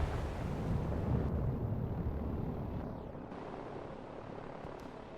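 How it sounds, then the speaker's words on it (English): A helicopter flies in during a strategy video game battle between islands, giving a rumbling, windy engine drone that is loud at first and then eases to a quieter steady hum, with no voices. "He's even got the helicopter coming in to try and take this out."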